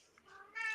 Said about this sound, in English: Oh, pardon me, that's my cat chirping.